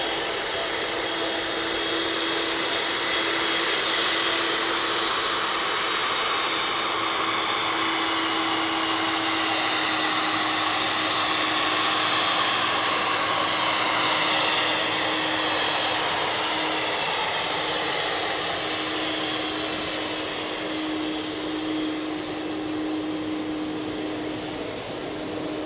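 A Boeing 767's jet engines roar at Manchester Airport, giving a loud, sustained whine and rush close by that holds steady and fades slightly near the end.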